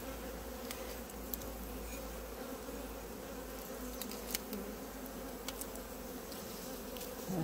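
Honeybees at an autumn hive crowded with drones, a dense continuous buzzing drone close by, steady and unbroken with faint ticks over it.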